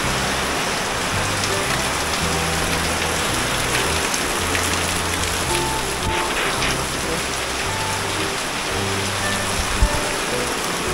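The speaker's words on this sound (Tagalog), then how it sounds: "Ito ang mahirap pag umuulan." Steady, dense rain hisses throughout without a break, a continuous wash of water sound with a faint low rumble underneath.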